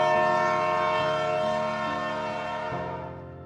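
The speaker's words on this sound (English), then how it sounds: "Just then, the train arrived." A train pulling into a station, heard as a loud sustained tonal horn-like roar with layered pitches that slowly fades and shifts near the end, alone without voices.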